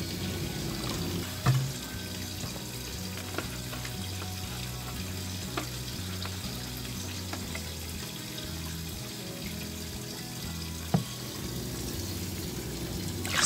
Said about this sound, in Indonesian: Kemudian lanjut kita tuangkan lagi 1/2 liter lagi air lindi.